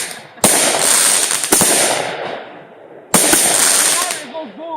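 Loud fireworks going off nearby, with a sharp crackling burst followed by another, then a third after a short gap, each trailing into a dense crackle; children's voices can be heard chattering in between.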